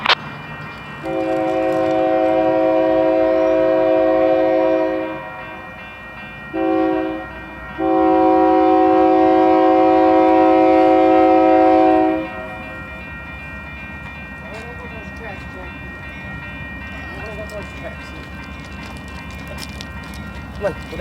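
Union Pacific locomotive 5638 leads a freight train over Price Road and the 101 Freeway, sounding a loud multi-tone horn in two long blasts split by a short one, then the train rumbles past.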